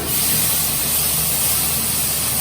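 Ginger paste sautéing in a hot pan for an onion-free, garlic-free paneer white gravy: a steady, loud, even sizzle and hiss with no breaks.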